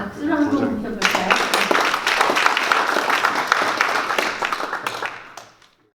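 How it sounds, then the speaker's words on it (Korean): Audience applause at a Korean forum study meeting welcoming a guest lecturer to the stage: dense, steady clapping rising right after an introductory voice and continuing for several seconds before tapering off to silence. "우리 박수로 한번 모셔볼까요?"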